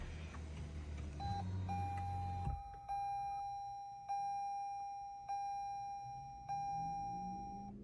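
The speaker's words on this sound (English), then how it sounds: "Let's go ahead and start the vehicle." Start-up chimes from a 2022 Lexus ES300h Ultra Luxury hybrid as it powers on: a low rumble cuts out, then a steady high tone sounds, followed by a series of short chimes repeating about every second and a half, clear and close.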